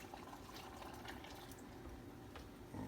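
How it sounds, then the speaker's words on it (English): Water pours faintly and steadily into a pot of potato and carrot soup broth, a soft continuous splashing with no speech. "I'm about to pour some of this water into here"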